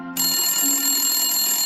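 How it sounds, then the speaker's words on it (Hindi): A telephone bell rings loudly and steadily, a bright, sustained metallic tone that starts abruptly and continues without a break, with no voices over it. "जब टेलीफोन की घंटी बजी तो उसके कानों तक उसकी आवाज न पहुंची। बहुत देर तक घंटी बजती रही।"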